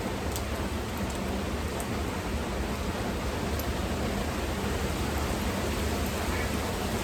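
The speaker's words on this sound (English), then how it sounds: "More rain" Steady rain falls over a public park, a dense even hiss that continues unbroken, with a few faint drip ticks and no voices.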